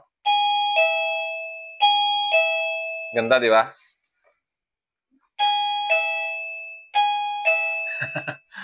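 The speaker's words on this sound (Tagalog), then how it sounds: "Astig, meron ka ng doorbell." A two-tone doorbell chime rings twice, pauses, then rings twice more, loud and close, with a person speaking briefly between the chimes.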